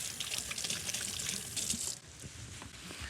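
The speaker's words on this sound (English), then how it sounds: "I'm gonna give my hands a little rinse." Hands being rinsed under a running kitchen tap, a steady hiss of water splashing continuously, briefly changing tone as the hands move under the stream.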